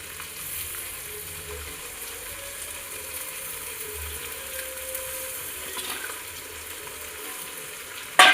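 Gongura leaves stirred into half-cooked tomatoes in a pan: a soft, steady sizzle with faint stirring movements, ending in a sudden louder clatter at the very end.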